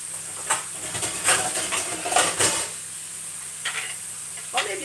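Serving plates are set out in a home kitchen while burgers cook. A few light clinks and taps of dishes sound over a steady frying sizzle and hiss.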